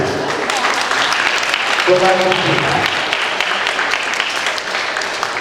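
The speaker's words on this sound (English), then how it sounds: "Big round of applause for the hot seat girls." At a hypnosis show an audience applauds the hot seat girls, a loud continuous roar of clapping and crowd noise with a voice cutting through briefly midway.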